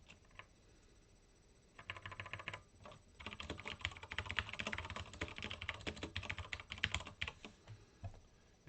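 Steady clicking of keys on a computer keyboard, close and clear, starting sparse and then building into a continuous run of fast typing with no talk.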